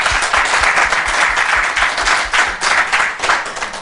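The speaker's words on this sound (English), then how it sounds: "So you can just round of applause." An audience at a Cape Town celebration event applauds, a dense, sustained wash of clapping that stays loud and steady across the whole stretch with no voices on top.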